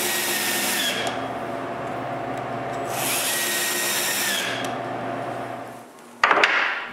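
A power drill drives screws for cabinet door hinges in a woodworking shop, running in two sustained whirring bursts separated by a brief pause, then stopping, followed by a sharp clack of the tool being set down.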